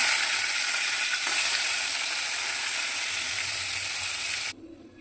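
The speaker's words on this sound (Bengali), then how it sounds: "তেল গরম হয়ে গেছে, এবার মাছের মাথাগুলো ভেজে নেব, লাল লাল করে ভেজে নেব।" Fish heads fry in hot oil for a mung dal dish, giving a loud, steady, hissing sizzle that holds for about four and a half seconds and then cuts off abruptly, leaving only faint crackle.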